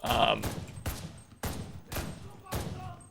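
Submachine gun hip fire in the video game Enlisted comes as five short, punchy bursts spaced about half a second apart, fairly loud, with a brief trace of voice at the start.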